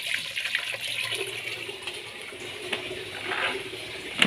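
Soapy water sloshing and splashing during washing of a car tire, a steady close hiss of running liquid throughout with no talking.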